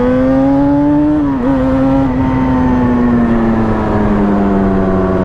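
A Yamaha Banshee 350 two-stroke quad engine holds a loud, buzzing rev close by, pitch dipping briefly partway through and then sliding slowly downward as it eases off, with no voices.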